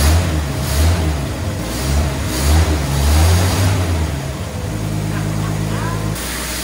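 Engine of an abandoned 1954 Chevy idling steadily after decades sitting in a field, a low, even rumble running throughout with a brief revving swell, while someone talks over it close by.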